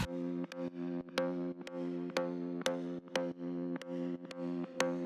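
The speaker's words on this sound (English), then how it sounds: "added another layer for the bass, which is just an organ sound" A steady, sustained organ tone holds low notes, punctuated by regular sharp percussive clicks in a repeating rhythm.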